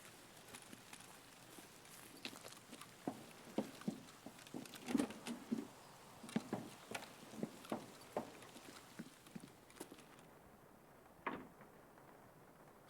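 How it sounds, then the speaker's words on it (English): Rain in the video game Escape from Tarkov, a soft steady patter with scattered brief taps and drips throughout, moderately quiet and heard alone. "And the rain returns."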